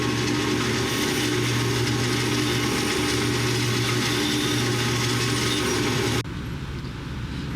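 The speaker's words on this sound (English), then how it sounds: "I just take a wire brush on my grinder here, and we'll just clean these up real quick" A wire brush spinning on an angle grinder scours starter bolts from a 1999-2004 Mk4 Volkswagen Jetta, a loud, steady, gritty whir that runs for about six seconds and then cuts off abruptly.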